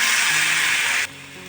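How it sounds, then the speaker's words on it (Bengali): Water hits a hot pot of biryani and sizzles with a loud, bright, steady hiss that stops abruptly after about a second, leaving a quieter residual fizz. "এখন আমি জল ঢেলে দিচ্ছি দেখো"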